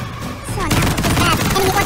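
Gunfire in the online war game Heroes & Generals sounds as dense, continuous volleys of rapid shots, loud and close, with a faint voice speaking beneath them.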